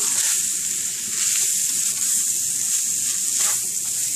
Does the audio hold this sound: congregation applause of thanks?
no